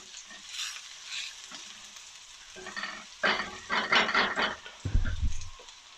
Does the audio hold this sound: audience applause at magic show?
no